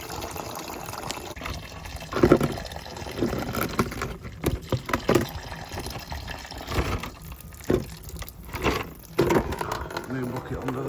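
Old coolant drains from a VW T4 camper van engine into a bucket, with liquid splashing and trickling in irregular bursts close to the microphone, several louder gushes standing out.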